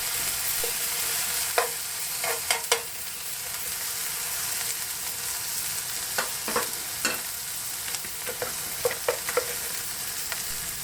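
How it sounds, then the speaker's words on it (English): Cabbage and mixed vegetables with garlic powder and soy sauce sizzle steadily in a frying pan on a boat, a constant crackling hiss punctuated by sharp pops and a few stirring scrapes, with no talking. "Let it sizzle until the cabbage is soft."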